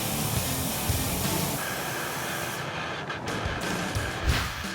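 A primer gun with a large fluid tip sprays thick tooling gel coat, a steady loud hiss that runs throughout with short pulses as the mold for a fiberglass hood is coated.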